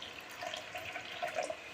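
Faint trickling sugar syrup pours steadily through a strainer, a soft splashing stream with slight gurgles, quiet and close with no talking.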